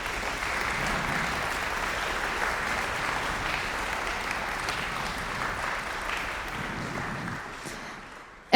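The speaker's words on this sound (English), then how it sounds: "Can we please give them a round of applause?" Audience applause at a community school concert band and wind ensemble spring concert, steady, dense clapping from a large crowd sustained for about eight seconds, then fading before a sudden loud bump at the end.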